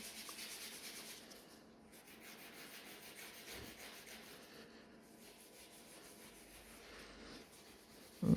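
Fingers rub rainbow mirror chrome powder into gel nails, making a soft, continuous, faint scuffing close up, with a brief louder bump at the end and no speech.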